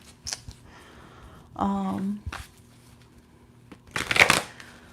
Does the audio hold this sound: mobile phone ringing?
no